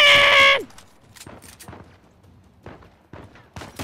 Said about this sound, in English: Shooting me!